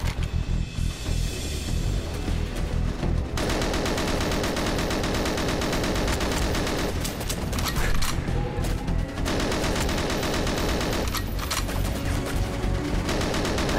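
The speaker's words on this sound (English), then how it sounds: "The KF7 Soviet. It's just so good. It's just basically this game's version of an AK-47" Rapid automatic fire from the KF7 Soviet rifle in GoldenEye: Source, a Soviet assault rifle akin to an AK-47, comes in dense sustained bursts broken by short pauses, loud and close with overlapping shots.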